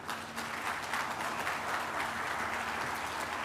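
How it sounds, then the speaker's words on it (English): A crowd at a groundbreaking ceremony for a hope campus applauds in a steady, continuous wash of clapping, loud and sustained throughout with no talk. "we all deserve a collective hand of applause"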